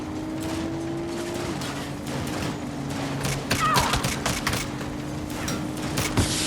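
Gunfire from the video game Saints Row crackles in rapid bursts of shots over a busy game soundscape, growing denser and louder toward the end, with a voice heard briefly.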